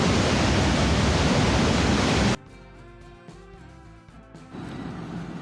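A powerful waterfall roars up close as someone heads beneath it, a dense, loud wash of noise that suddenly drops after about two seconds to a quieter, muffled rush.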